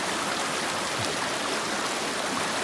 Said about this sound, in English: Looks like I might be doing a water crossing, folks.